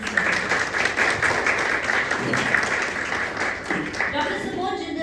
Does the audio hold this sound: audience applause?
yes